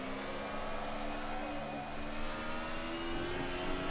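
Racing cars in an Assetto Corsa DTM race, engines droning steadily with a constant whine and rising pitch as they run close behind, loud and continuous with no voices.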